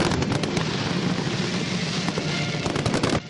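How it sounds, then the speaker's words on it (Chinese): A dense, continuous barrage of firework bursts and crackles rings out over the sea at the Kaohsiung Lantern Festival show. It stays loud and unbroken throughout, then drops away sharply at the very end. "上万颗绚丽烟火直冲云霄，爆亮出五彩缤纷焰火，"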